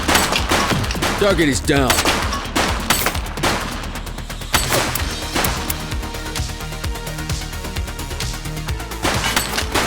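In the police game The Precinct, rapid gunfire crackles in a heavy exchange of close, repeated shots and bursts, with voices talking over the shooting.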